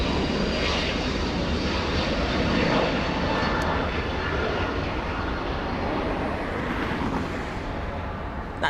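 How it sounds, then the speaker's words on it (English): Airbus A350-900 airliner engines roar in a broad, sustained rumble during landing or takeoff at an airport, steady and fairly loud throughout with slight wind buffeting and no talk. "We have the A350 up next. Big one, big one. Big A350 900."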